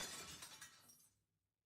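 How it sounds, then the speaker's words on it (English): Glass object shattering as it hits the floor: a loud burst of breaking and scattering glass that rings on for about a second before fading to silence, with no voices. "The sound of something made of glass hitting the floor."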